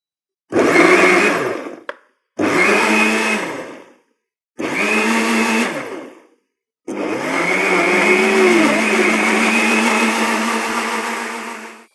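A ViDiA vacuum blender runs in four loud bursts nearby: three short pulses of a few seconds each, separated by brief silences, then one longer sustained whirring run, with the motor pitch dipping and rising as the blades churn the contents.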